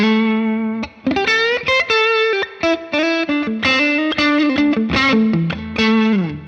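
An electric guitar plays a driven riff through a Fractal FM3 preset, distorted chords and single notes in quick choppy bursts, loud and up close with a short break near the start.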